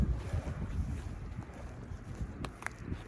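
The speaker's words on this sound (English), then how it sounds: "Probably hear the wind." Steady wind blowing outdoors on a coastal walk near Brading, a continuous low rumbling buffet of gusts against the microphone with faint higher hiss, alone without talk.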